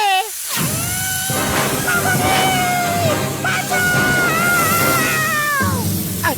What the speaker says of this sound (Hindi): अरे क्यों चिल्ला रहे हो?